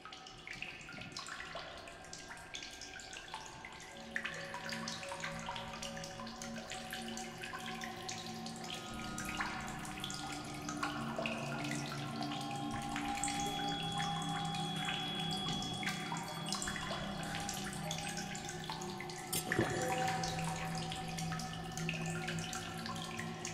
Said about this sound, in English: I can drink from a fresh water source.